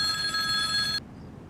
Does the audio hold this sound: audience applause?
no